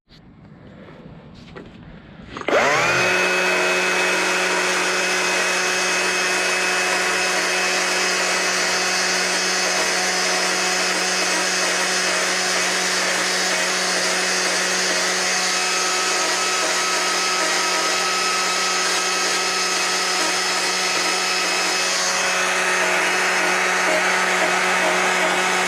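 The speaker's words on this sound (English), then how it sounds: "now what we want to do is take the chainsaw and start furring it" A chainsaw starts with a quick pull and then runs at a loud, steady, high-pitched drone for a long stretch while carving fur texture into wood, with no talking.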